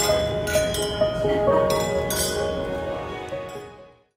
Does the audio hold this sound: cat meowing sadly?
no